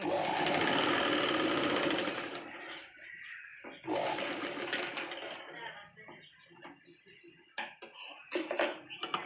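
A sewing machine double-stitches a Punjabi dress top, humming loud and close for a couple of seconds before stopping, followed by quieter handling clicks and light taps.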